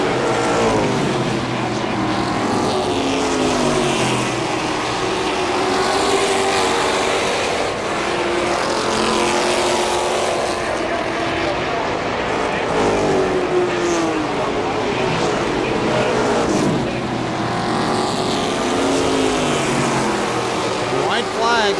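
Late model stock cars race around KilKare Speedway, their engines a dense, continuous roar of many cars passing with rising and falling pitch, while an announcer calls the race over the noise.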